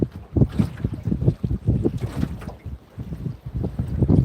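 Heavy wind sweeping across a lake where someone is fishing, roaring in the microphone as continuous loud gusts with a low rumble and a faint wash of small waves.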